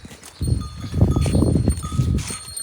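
A group of cows comes back from drinking water, with shuffling hooves, rustling movement and a faint bell clanking close by, in uneven bursts over a few seconds.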